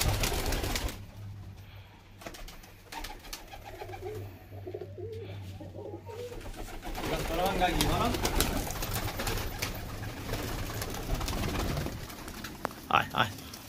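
Pigeons in a rooftop pigeon loft coo in low, rolling calls beneath steady nearby talking, with wing flutters and rustling throughout.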